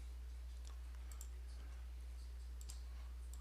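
Computer mouse clicks at a Microsoft SharePoint admin workstation, a few faint, sparse, sharp ticks spread over a quiet hum with no talking.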